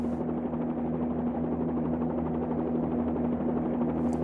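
A Bell 47 helicopter engine and rotor in a flight simulator game drones on as a constant, close, even hum with no breaks.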